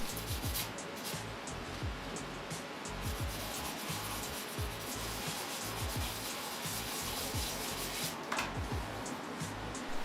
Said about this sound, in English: I got a nail file and I scuffed up all of the remaining flat surfaces